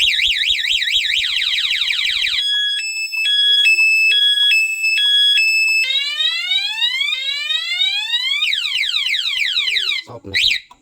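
A 2-way car alarm set off during a sensitivity test blares loudly and close, cycling through rising and falling siren sweeps, rapid alternating beeps and warbling tones before cutting off abruptly.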